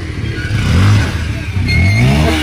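A motorcycle engine revs up twice in quick succession, close and fairly loud, with a rough mid-pitched growl under light background noise.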